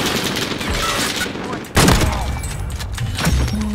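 Rapid bursts of video game gunfire in Warzone, a crackling volley that swells into a sharp loud burst near the middle and keeps going, with a player talking over the shots.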